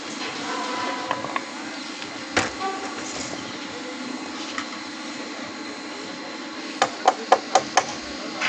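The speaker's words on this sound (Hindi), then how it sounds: "अब इसको हम हल्का सा ठोक देंगे" A tyre wheel hub is tapped lightly with a piece of wood, giving a few scattered sharp knocks and then a quick run of five or six close taps near the end over a low background hum.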